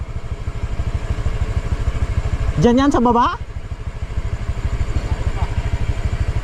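A Honda Click scooter engine idling with a steady low putter on a muddy, rain-soaked road, while a voice briefly speaks over it.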